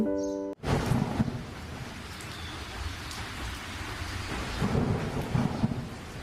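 A rain and thunder sound effect in a Bangla cartoon night scene opens with a sharp thunder crack, then steady rain patters on through faint rolling rumbles, with no voices.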